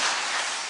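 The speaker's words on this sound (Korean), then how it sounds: "박수 한번 치십시다." Dense, steady applause from a church congregation, a continuous wash of clapping that holds at an even level for a brief moment.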